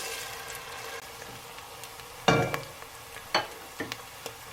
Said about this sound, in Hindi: मैंने इसमें लहसुन अदरक का पेस्ट डाला, इसे थोड़ा सा भूनूंगी